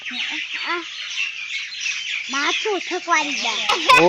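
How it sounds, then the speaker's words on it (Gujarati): Small birds chirp and squawk busily in a steady, close chorus, with a voice talking over the calls. "તમારા ઘરે બોલે આવા ચકલા"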